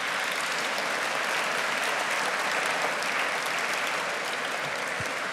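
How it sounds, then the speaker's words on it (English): Sustained applause from a gala audience honoring event sponsors, a dense, even wash of many hands clapping at steady loudness throughout, with no voices standing out. "Again, give those sponsors a huge round of applause."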